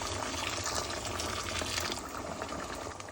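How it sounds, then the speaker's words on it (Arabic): Hot water pours steadily into a pot, a continuous splashing rush with a bubbling, sizzling edge, close and fairly loud. "أضيف عليه المي الحار"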